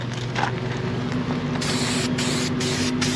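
Aerosol clear primer sprayed onto rust on a trailer's underside, heard as a loud, close hiss in several bursts with short breaks between them, over a steady background hum.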